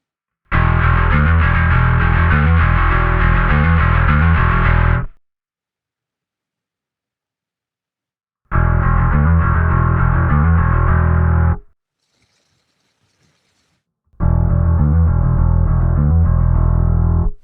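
A sound processed through the Anagram Entropia distortion plugin plays in three separate bursts with silent gaps, a dense, gritty, buzzing distorted tone that changes character slightly between bursts.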